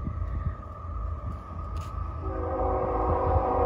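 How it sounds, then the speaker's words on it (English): A CSX freight train with a distributed power unit approaches, its low rumble building as a sustained multi-tone horn begins partway through and grows louder. "Guys, there's a train coming."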